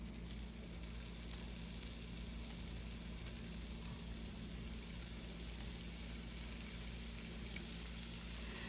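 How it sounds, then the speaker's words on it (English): Faint, continuous sizzle and crackle of shrimp frying in a pan for a shrimp and grits dish, a steady hiss with no talking over it. "Now we're going to cook our shrimp on each side."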